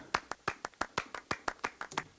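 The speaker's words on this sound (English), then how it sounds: "So I like these claps a lot" Clap samples in a Logic Pro X Afro beat, about a dozen crisp, sharp hand claps in a quick even rhythm, some hits stronger than others, played alone and fairly quiet.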